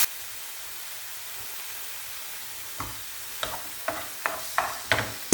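Frozen peppers and a little onion sautéing in a pan make a steady soft sizzle, punctuated toward the end by several sharp stirring scrapes and taps, close and clear with no talk.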